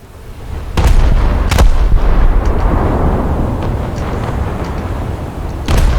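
Naval guns on a light cruiser fire in a War Thunder battle, loud close booms arriving as separate sharp blasts, each followed by a long rumbling roar that hangs on between shots.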